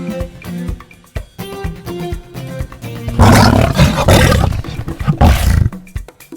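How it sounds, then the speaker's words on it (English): A lion roars loudly and close, a rough sustained roar lasting about three seconds with a second surge, over a light musical backing. "Lion."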